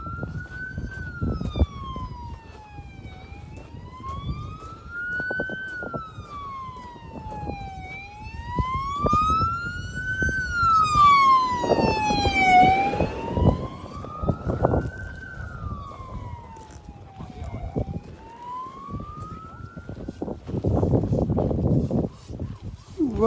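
An emergency vehicle siren wails up and down repeatedly as it passes nearby on a road to an active volcano site in Iceland, loud and rising, with engine rumble and bursts of traffic noise underneath.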